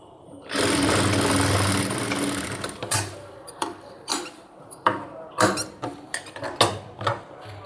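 Close by, a sewing machine stitches a cargo half pant in a steady run, then switches to a series of short, rhythmic bursts of stitching.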